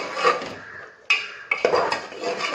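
A spoon scrapes and knocks against a cooking pot as dal with salt is stirred, giving several sharp clinks and rasping strokes with quiet gaps between them.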